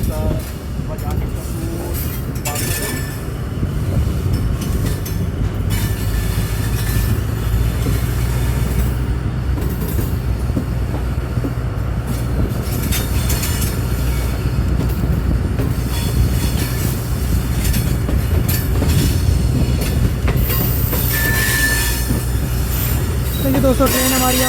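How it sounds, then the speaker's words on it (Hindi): A passenger train departing Raiwind Junction station on the Lahore to Kasur line, heard from on board as a loud, continuous rumble with rhythmic clickety-clack of wheels on rail joints and occasional high squeals, with a voice talking over it. "और ट्रेन अब डिपार्ट कर रही है जी रायवेंड जंक्शन रेलवे स्टेशन से"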